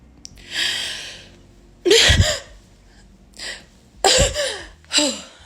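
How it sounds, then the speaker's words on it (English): A person sneezes two or three times in quick bursts, with sharp inhaled gasps and breathy exhalations between them. "Okay, I gotta sneeze."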